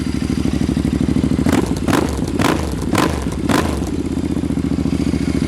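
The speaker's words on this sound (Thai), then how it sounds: "ขอเบิ้ลรถนิดนึงนะครับ" A Royal Enfield Interceptor 650 custom motorcycle engine idles with a rough, throbbing rumble, then is revved in several quick blips before settling back to idle, loud and close.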